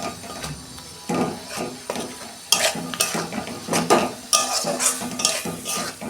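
Chicken with turmeric, cumin and coriander powder stirred in a pan as it cooks down in oil, giving loud close bursts of scraping and clattering in uneven waves over a sizzling background, with no speech.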